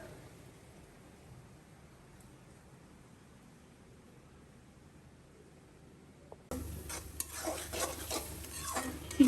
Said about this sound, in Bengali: চিংড়ি মাছের ঝাঁকাটা রান্না করছি।